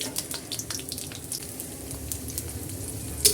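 Panch phoron spices and chopped garlic sizzling in hot oil for a star fruit pickle, a steady crackling hiss with scattered pops and spits, fairly quiet and without talk.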